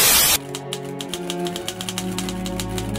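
A mechanical typewriter clacks through a brisk run of keystrokes in a scene from the TV series Wednesday, loud and close, with metallic strikes in an uneven rhythm after a brief burst of noise.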